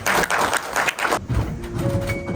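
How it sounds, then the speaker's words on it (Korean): Closing round of applause from an audience at a year-end sharing event: dense clapping fills the first part loudly, then thins and tapers into scattered claps and room noise. "마지막 감사의 박수 드립니다."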